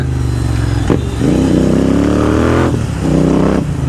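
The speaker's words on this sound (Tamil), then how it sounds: "கீர் கட் பண்ணிட்டு எக்ஸ்ட்ராவாக முறுக்கிறது, இந்த மாதிரி உங்களுக்கு தெரியுதுல்ல." A Royal Enfield GT 650 motorcycle fitted with a Red Rooster performance exhaust revs hard and close, its loud throaty drone climbing and dropping through several throttle blips and gear changes.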